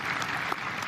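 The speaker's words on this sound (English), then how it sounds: "applause for the first Argentinian Pope" Crowd applause for the first Argentinian Pope, a brief, steady wash of many hands clapping at moderate distance, with no voices standing out.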